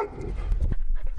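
A dog barks and pants close by, a few short yips and huffs in quick succession over light background noise.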